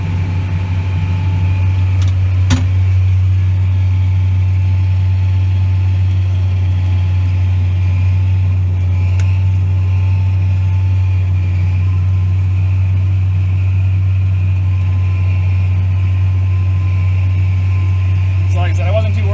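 A farm machine's engine runs steadily while cutting barley for greenfeed, a loud, constant low hum with a few brief knocks and rattles over it and faint talk in the background.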